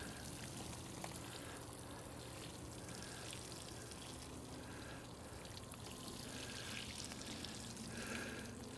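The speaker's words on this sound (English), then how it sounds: "And I'll just water them in." Water from a 2 gallon watering can pours steadily onto seedlings in a cold frame, a continuous soft hiss and patter of trickling water with no voices.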